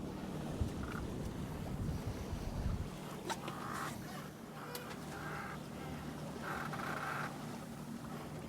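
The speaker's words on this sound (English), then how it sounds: "the wind now is only probably 11 knots of wind" Wind gusts and buffets past a sailboat under sail in a breeze of about 11 knots. The wind is faint and steady, with water wash and light thumps on board and a few soft voices.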